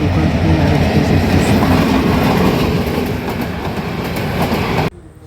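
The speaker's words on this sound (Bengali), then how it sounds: "একটি লোকাল ট্রেন স্টেশনে এসে দাঁড়িয়েছে" A local train standing at Feni railway station in Bangladesh rumbles loudly and steadily with a rattling, clattering wheel and carriage noise that fills the whole clip and cuts off abruptly near the end.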